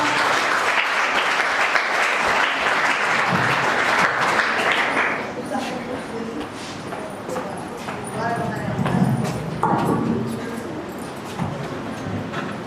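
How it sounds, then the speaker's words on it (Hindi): Loud applause at a school retirement function welcoming a doctor, a dense roar of clapping for the first few seconds that thins out as voices and other noises take over. "जोरदार तालियों के साथ स्वागत डॉक्टर साहब का"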